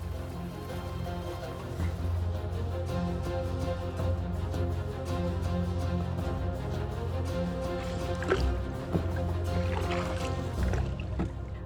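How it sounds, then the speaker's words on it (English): Water laps and sloshes around a small country boat crossing a river, with drips and splashes over a low steady rumble, close and continuous. "we reach a small river which we will have to cross in a country boat"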